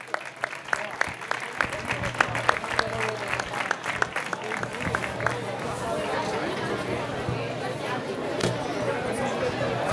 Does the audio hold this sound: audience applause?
yes